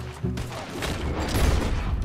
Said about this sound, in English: Who is shooting at me and why?